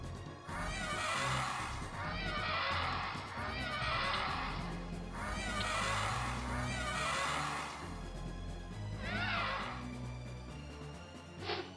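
Knights' horses in WarCraft II: Remastered neigh in several loud, bright whinnies, one after another, over a busy layer of game effects and hoofbeats, with no talking.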